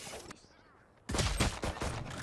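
Valorant gunfire bursts out loudly after a quiet lull, a dense rattle of shots filling the second half.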